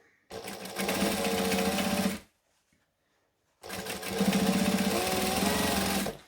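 An overlocker serging the fabric edge of an ironing board cover, a loud close mechanical hum-rattle running for about two seconds, stopping briefly, then starting again for another stretch, with no talk.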